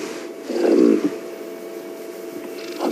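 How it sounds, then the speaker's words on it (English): A white-browed scrub robin gives a short, low churring call just after sunset on a safari drive. One burst comes early, a fainter one follows near the end, and the outdoor ambience between them is quiet. "that is the call of the white-browed scrub robin"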